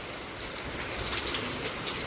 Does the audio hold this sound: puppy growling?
no